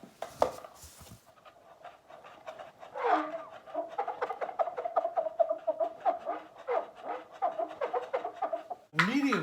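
A handheld bottle bird chirper toy twitters in a long run of rapid, squeaky bird-like chirps, fairly quiet and close, with short voice-like sounds at the start and end.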